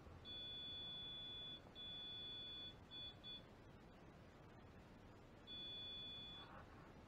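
Electronic beeping in a steady tone: one long beep, a short pause, then a shorter pair of beeps, and another long beep after a gap, under faint background noise.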